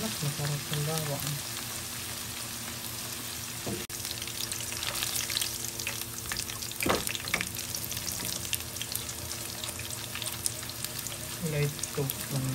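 Garlic fries in a pan at close range, giving a steady, fine crackling sizzle with occasional louder pops and brief stirring scrapes.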